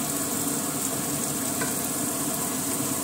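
Ground spice paste fries in oil for chicken biryani, a dense, continuous sizzle heard close and loud, unchanging through the moment with no voices.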